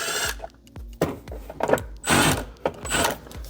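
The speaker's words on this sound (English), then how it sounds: "there's one more with the Phillips bit. The 3 screws inside the steering column cover. You take these off." Power driver with a Phillips bit backing screws out of a steering column cover during a Denago golf cart audio install, whirring in several short close bursts of a few tenths of a second each, with brief pauses between them.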